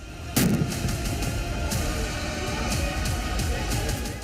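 Gunfire at a farmers' protest at Shambhu border on the Haryana–Delhi road: a loud sharp report followed by a few fainter distant pops over a continuous roar of crowd noise.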